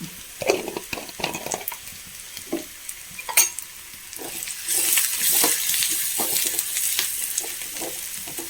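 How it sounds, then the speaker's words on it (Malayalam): Crushed chili hits a pan of onions for a village-style curry, with light scraping and stirring at first, then a bright, loud sizzle that swells halfway through and holds steady. "നമ്മൾ ഉള്ളിലേക്ക് ഒരു സ്പൂണ് ചതച്ച മുളക് ഇട്ട് കൊടുക്കാം."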